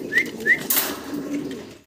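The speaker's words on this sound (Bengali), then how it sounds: "বিশাল বিগ সাইজের এক জোড়া ব্ল্যাক মুন্ডিয়ান কবুতর আপনারা দেখতে পারতেছেন" A pair of big black Mundian pigeons coo softly at close range, two short calls followed by a brief rustle, with no talking.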